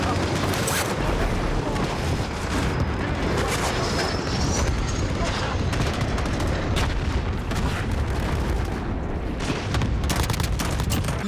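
Heavy tank cannon blasts and battlefield booms in a Call of Duty Modern Warfare ground war match, dense and loud throughout, with explosions and gunfire layered over a constant rumble and a voice talking faintly.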